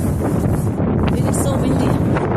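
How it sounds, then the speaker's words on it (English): Strong wind buffets the microphone during a walk along a rural road in a snowstorm, a loud continuous rumbling roar with gusty surges throughout. "It is so windy."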